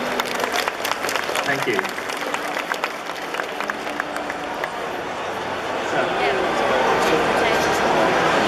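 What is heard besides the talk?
audience applause for Zach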